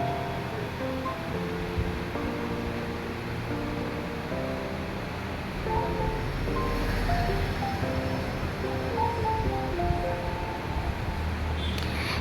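Cumin seeds tempering in hot oil for a Bengali home-cooked dish, a steady close sizzle and crackle that fills the whole stretch without a break.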